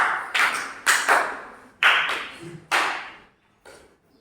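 Applause in a classroom after a lesson: about half a dozen separate, fairly loud claps or slaps, each ringing briefly in the room, spaced irregularly with short gaps and no voices.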